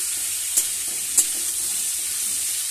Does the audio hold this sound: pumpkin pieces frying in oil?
yes